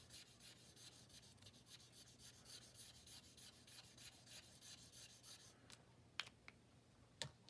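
An alcohol marker filling in an area with brown ink sounds as a faint, steady scratchy rubbing of the pen tip on paper in quick back-and-forth strokes, followed by a few light taps near the end.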